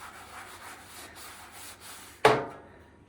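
A metal table is scrubbed by hand with vigorous, rhythmic rubbing strokes, close and fairly soft, ending with a sharp knock followed by a fading ring.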